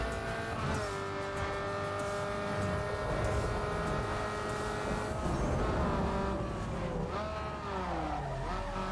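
Race car engine on nitrous in Need for Speed Underground 2, a steady high-pitched roar with shifting tones and tire squeals through a long sweeping corner, fairly quiet and continuous with no talking.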